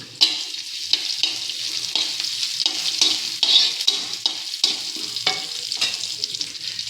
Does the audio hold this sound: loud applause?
no